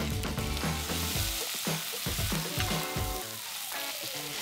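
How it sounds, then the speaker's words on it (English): Onions land in hot pork fat in a pan and sizzle loudly up close, with a run of rhythmic knocks and scrapes as they are tossed, the hiss steady and settling toward the end. "I'm going to throw my onions straight in."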